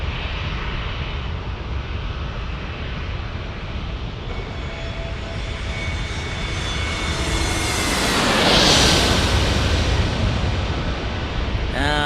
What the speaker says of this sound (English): There is American Airlines from Philly.